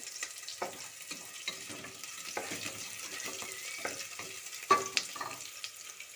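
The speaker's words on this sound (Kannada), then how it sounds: "ಈಗ ಚೆನ್ನಾಗಿ ಫ್ರೈ ಮಾಡಿ ನೋಡಿ ಈ ರೀತಿ ಚೆನ್ನಾಗಿ ಫ್ರೈ ಮಾಡಿ" Vegetables for a vegetable pulao frying in a pan, a soft, fairly quiet sizzle broken by scattered crackles and the scrape and clatter of stirring, with no talking.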